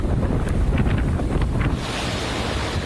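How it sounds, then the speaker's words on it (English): Hurricane-force wind roars and buffets the microphone while heavy surf crashes continuously, loud and close, a dense storm rumble with no letup. "Wind gusts of 200 miles per hour."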